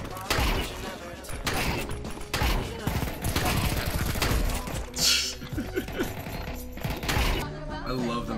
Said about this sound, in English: I love the Mag 7 headshot